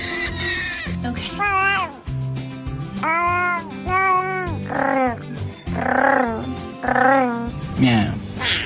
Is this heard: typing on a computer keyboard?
no